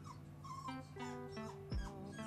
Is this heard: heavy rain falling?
no